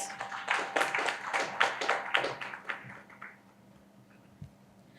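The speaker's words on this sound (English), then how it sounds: "with a loud round of applause" Audience applause at a conference inauguration for a residential ESG programme, a burst of clapping by a modest crowd that swells for about three seconds, then thins out to a few scattered claps.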